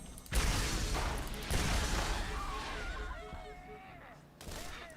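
Machine pistol gunfire in the Borderlands 1 video game comes in three loud, rapid bursts with mechanical clatter between them, heard close up.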